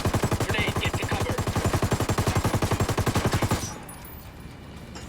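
Rapid automatic gunfire in the video game Ghost Recon Wildlands, a loud, steady stream of shots for about three and a half seconds that then cuts off, leaving quieter ambient background.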